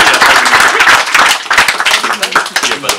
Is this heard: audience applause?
yes